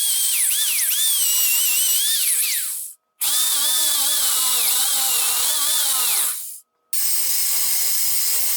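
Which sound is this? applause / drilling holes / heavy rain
drilling holes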